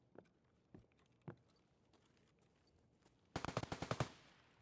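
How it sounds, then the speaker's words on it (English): Rapid burst of automatic gunfire in Escape from Tarkov, several faint distant single shots first, then a loud close cluster of about eight fast cracks near the end. "I don't know who's shooting at what."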